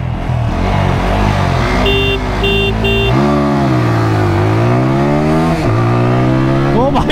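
A KTM RC200 and a TVS Apache RTR200 motorcycle accelerate hard in a drag race, engines roaring loudly and continuously with rising and falling revs through gear changes, close and steady throughout.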